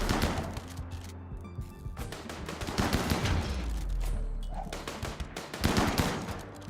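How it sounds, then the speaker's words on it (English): Gunfire in the video game RimWorld, bursts of rapid automatic shots and overlapping volleys firing around a corner, loud and dense, continuing in clusters without talk. "We're shooting around the corner, it looks like."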